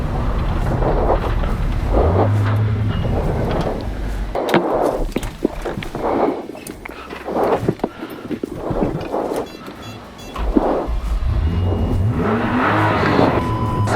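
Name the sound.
rally car driving off at the Rally Sarma 2024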